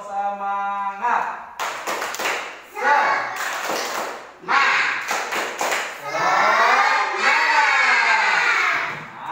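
Schoolchildren in a classroom perform a rhythmic spirit clap, a fast patterned series of claps in quick groups and pauses, mixed with lively young voices chanting and shouting along.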